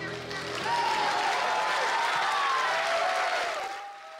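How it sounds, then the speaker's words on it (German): Thunderous applause from the audience at a children's circus show by Zirkus Zappzarap in Landsberg, a dense, steady wash of clapping that swells after the first half second and holds loud before tapering off at the end, with faint tonal sounds over it. "Und am Ende tosender Applaus"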